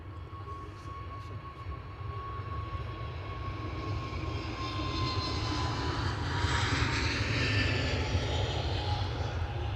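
An ITA airliner taxis at Edinburgh Airport, its jet engines a steady, droning roar with a thin, constant whine on top that swells slightly louder toward the end.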